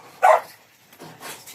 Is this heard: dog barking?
yes